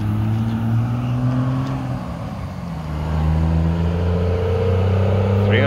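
Cummins diesel pickup engine rumbling low and steady, dipping briefly and then climbing as it revs up, close and fairly loud.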